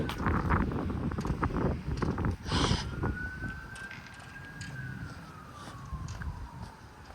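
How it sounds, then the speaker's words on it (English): Distant ambulance siren rising then sliding slowly downward in a faint wail, heard outdoors in a residential neighborhood under wind buffeting and nearby rustling. "And that's a siren in the distance."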